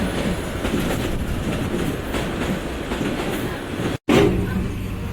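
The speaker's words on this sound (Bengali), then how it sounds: "আমাদের কাঙ্ক্ষিত সেই কুড়িগ্রাম এক্সপ্রেস ট্রেন।" Kurigram Express train rolling into Badarganj railway station, a steady rumble of wheels and carriages with rhythmic clacking over the rails, close and loud, broken by a brief dropout near the end.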